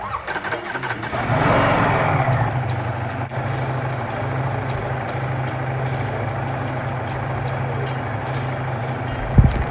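A 2025 Ducati Panigale V4 motorcycle fires up and settles into a steady, rumbling idle, with a rise in engine noise early on followed by a continuous low drone close by.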